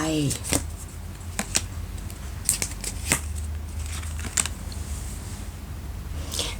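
Oracle cards are shuffled close by in sparse, sharp flicks and snaps spaced about a second apart over a steady low hum, with a voice speaking at the very start.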